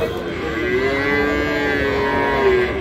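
A Sindhi breed calf moos loudly at a busy cattle market, one long drawn-out bellow with a wavering tone lasting nearly three seconds, close by over a steady crowd murmur.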